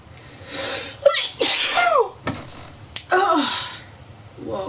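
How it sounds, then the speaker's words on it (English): Two sneezes from a character in Dragon Age Inquisition, each a sharp burst followed by a gasp-like tail, spaced about two seconds apart over a low game ambience with faint voice-like sounds. "Must have wanted to sneeze."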